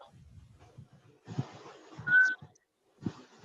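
A single short whistled tone cuts in briefly among quiet background rustling and low thumps, with a pause of near silence afterward.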